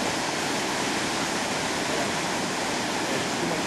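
Fast-moving water at Pisew Falls, a waterfall in northern Manitoba, Canada, roars as a dense, steady rush of noise, loud and close, with no voices.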